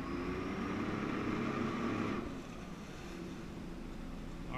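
A jet ski engine powering a flyboard holds a steady, moderately loud drone, then throttles and shifts, the tone changing partway through amid wind noise.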